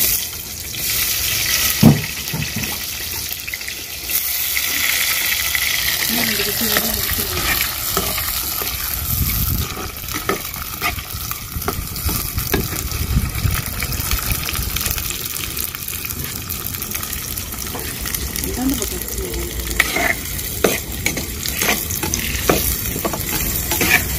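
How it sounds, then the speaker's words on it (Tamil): Onions sautéing in a pan for a fish curry, a steady bright sizzle with occasional stirring scrapes and clatter, continuous and close for the whole stretch. "வெங்காயம் நல்லா பொன்னிறமா வர அளவுக்கு வதக்கிக்கிறோங்க."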